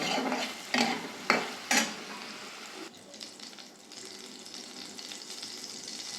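Turmeric-and-salt-coated prawns fry in oil in a wok, with several sharp scraping strokes of a spatula at first, then a softer continuous sizzle.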